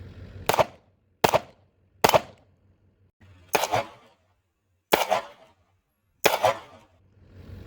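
An S&W M&P Shield Plus pistol fires six sharp shots outdoors at an uneven pace, each crack decaying quickly into short echoes. The shots are spaced about a second apart with quiet gaps between them.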